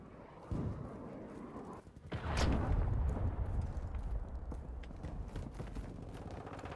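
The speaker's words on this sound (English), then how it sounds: "Hostiles launched a cruise missile." Cruise missile strike in Call of Duty Modern Warfare II / Warzone 2, a sudden loud boom that rolls into a long rumbling roar with debris clatter, continuing for several seconds.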